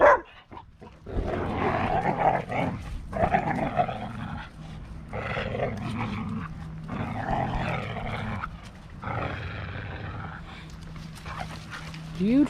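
Dogs whimper, whine and growl playfully in short bursts, close by, with a person talking intermittently underneath.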